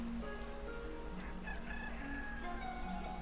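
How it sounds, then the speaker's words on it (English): Chickens in the video game Eastshade cluck and call, with a rooster-like crow, moderately loud and layered over steady ambient game sound and music, with no talking. "Oh, the chickens!"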